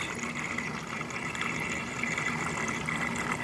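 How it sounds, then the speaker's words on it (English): Water circulating inside a Liberty 13-liter fruit and vegetable purifier, driven by a fan through produce: a steady, moderately quiet watery churn and hiss that holds evenly throughout with no talking. "on the other side, the fan is circulating the water around"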